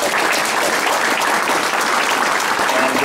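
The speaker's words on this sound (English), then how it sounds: "I'd ask you to give a round of applause to Company E of the 6th" Dense, continuous applause from an audience honoring Company E of the 6th, loud and even throughout with no pauses.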